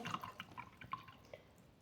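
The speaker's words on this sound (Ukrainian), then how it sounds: "промиваю пензлика." Brief soft water sounds: light splashing and dripping as something small is swished in a container, quiet and close.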